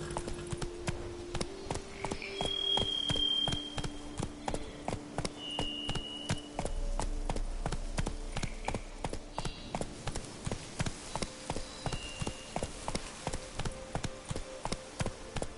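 Steady clip-clop of a horse's hooves on the ground in The Witcher 3, paced evenly at moderate distance with game background sounds and little talk.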